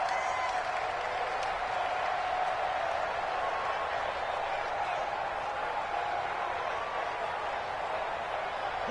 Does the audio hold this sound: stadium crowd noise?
yes